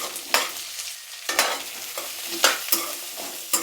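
Onions and cumin frying in a pan while making paneer butter masala, stirred with a utensil: soft sizzling runs underneath while about six distinct scraping stirs come at uneven intervals, close and fairly quiet.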